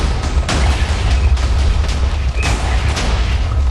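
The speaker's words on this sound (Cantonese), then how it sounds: "我淨係聽到爆炸聲連連啦" Rapid, overlapping explosions and booming blasts from a video game, loud and continuous with dense crackling bursts and deep low rumble throughout, no talking.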